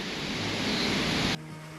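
Madhuganga waterfall near Kedarnath roars as a steady, loud wash of falling water close by, then drops sharply to a quieter rushing tone near the end.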